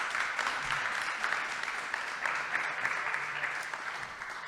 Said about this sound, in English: Yeah, sure, round of applause for